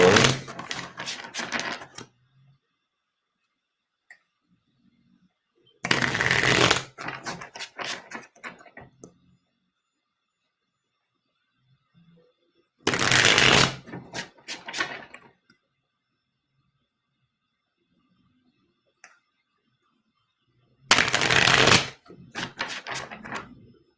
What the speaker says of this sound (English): Okay, so I'm going to first shuffle cards.